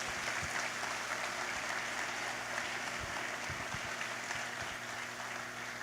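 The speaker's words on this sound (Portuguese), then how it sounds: "Você pode dar uma salva de palmas?" Applause from a church congregation: a soft, steady wash of clapping hands that stays even throughout, with a low hum and occasional thumps underneath.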